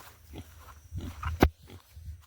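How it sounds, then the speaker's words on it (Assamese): A piglet on a farm gives several short, low grunts in an irregular rhythm, with one louder burst near the middle, heard close by with no talking. "এই গাহৰি পোৱালি এটা আছে।"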